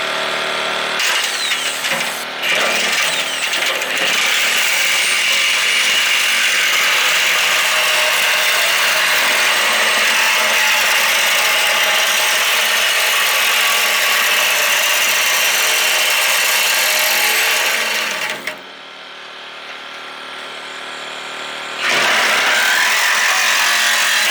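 A power tool powered by a small generator whines loudly and continuously for nearly twenty seconds, briefly dropping in pitch and strain when the load bogs the generator, then resumes at full, close, harsh intensity.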